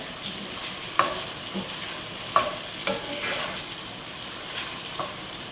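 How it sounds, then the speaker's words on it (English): Cherry tomatoes being stirred in a hot pan for a light pasta sauce, a soft steady sizzle broken by a few sharp utensil scrapes and taps, close and moderately quiet with no talking. "Just stir these tomatoes, making sure they get so tender."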